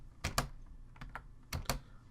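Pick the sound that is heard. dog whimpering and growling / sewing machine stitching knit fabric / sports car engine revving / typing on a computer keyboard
typing on a computer keyboard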